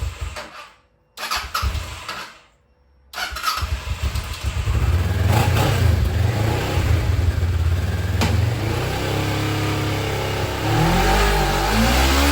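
A Kawasaki Ninja 650 motorcycle engine starts after a couple of cranking attempts, then runs steadily at a loud, close idle with a deep rumble throughout.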